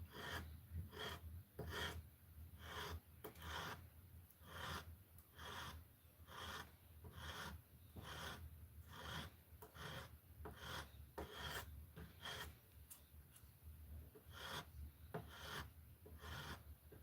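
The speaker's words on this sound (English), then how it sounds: "I actually am going to sand it with this side of the little sanding stick here." A small sanding stick rasps across a pin on a slipjoint pocket knife being peened together, a quick steady back-and-forth of short scratchy strokes, close and even, with no talking.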